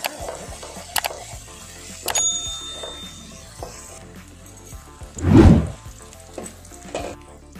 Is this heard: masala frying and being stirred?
yes